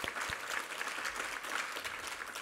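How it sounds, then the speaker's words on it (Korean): A congregation claps together during a Sunday church worship service, a dense, sustained round of applause filling the sanctuary. "우리 하나님께 감사와 영광의 박수 올려드리겠습니다."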